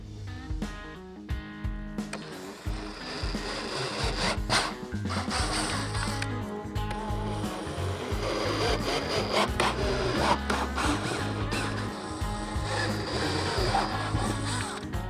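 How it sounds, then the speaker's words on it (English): A 9/32 drill opens up holes while a Harley-Davidson touring motorcycle luggage rack is fitted, the bit grinding and whirring in several close bursts with brief pauses between them. "now we'll go ahead with our 9/32 drill and open those holes up"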